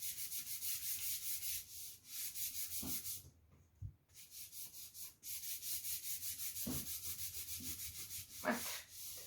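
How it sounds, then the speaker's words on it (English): Gesso is rubbed by hand onto a wooden round art panel, making steady, close scratchy strokes in a quick repeating rhythm, with a short pause partway through and a few soft knocks against the table. "So just making sure that it's got a coat of gesso on it. Just rubbing that in."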